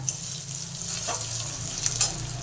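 Grated ginger frying lightly in a pan gives a steady, soft sizzle that runs unbroken throughout, with faint stirring scrapes and small crackles on top.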